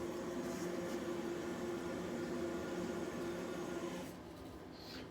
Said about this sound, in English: Sorry about that noise. The toilet in here does that occasionally.